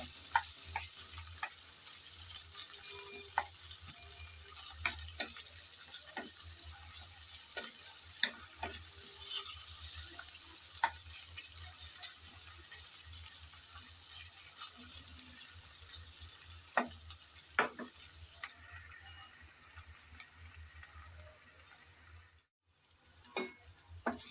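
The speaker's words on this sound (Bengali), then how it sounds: "পেঁয়াজ কিছুক্ষণ নেড়ে চেড়ে ভেজে নিলাম, কিছুটা নরম হয়ে আসছে" Chopped onions for ghugni fry in a pan under a steady sizzle while a spoon scrapes and stirs at irregular intervals, the sound cutting out briefly near the end, and no one speaks.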